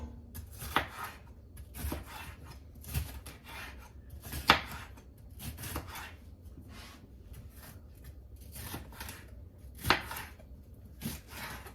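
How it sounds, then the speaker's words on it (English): A knife dices red pepper on a cutting board, a string of crisp, close chopping taps in irregular bursts, some strokes sharper and louder, with no talking. "Just gonna give it a fine dice."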